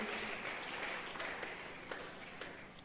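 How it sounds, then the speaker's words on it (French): A church congregation at a Thursday worship service applauding together, a dense wash of clapping that fades gradually, with a few sharper individual claps standing out near the end. "Acclamons très fort pour lui."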